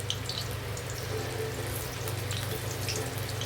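Chickpeas frying in oil over a slow gas flame, a soft continuous sizzle and crackle with a low steady hum underneath, close and even throughout.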